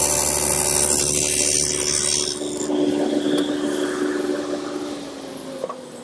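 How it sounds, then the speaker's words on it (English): Dado blade set to a 1/4 inch width cutting a groove in plywood for a drawer bottom: a loud, steady whine that keeps going through the whole pass and fades slightly toward the end, with no talking. "I've set up the dado for a 1/4 inch width, and we'll run that groove for the bottom first."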